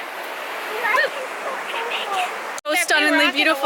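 Waterfall beside a forest trail near a small fern gully, a steady rushing wash of falling water heard close by under excited talk, with the voices growing louder near the end.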